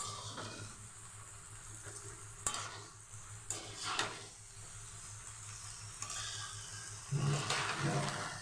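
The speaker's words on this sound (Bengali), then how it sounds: "ভালো করে চালটা ভেজে নেব।" Rice for pulao sizzles in white oil in a pan and is stirred now and then. Continuous frying hiss runs under occasional scraping strokes, with no talking.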